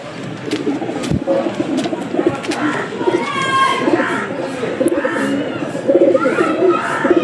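A Lal dum pigeon coos among other birds in a busy outdoor pigeon market, the coos fairly close and layered over crowd murmur and voices talking nearby.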